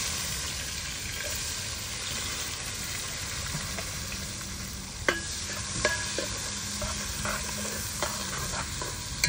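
Onions frying in a beef and potato curry pot over a camping fire, with a steady close sizzle and occasional stirring clinks, no talk.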